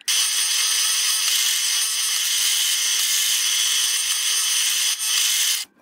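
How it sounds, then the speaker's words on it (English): A loud, steady high-pitched whir of a power drill pre-drilling screw holes in wood, running continuously for several seconds before stopping abruptly. "Let's pre-drill them."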